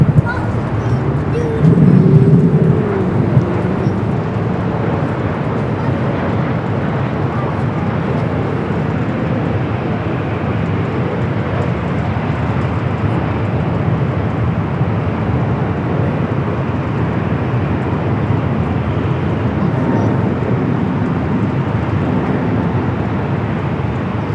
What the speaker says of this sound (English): Next arrival is a flight coming from SFO, a 737 at MAX 8.